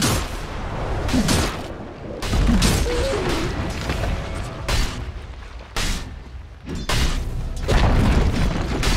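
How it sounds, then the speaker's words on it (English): A tower collapsing in Dota 2, heard as a run of loud, heavy booms and crashing impacts that keep coming close together over a dense, rumbling game background. "Dire's top tower has fallen."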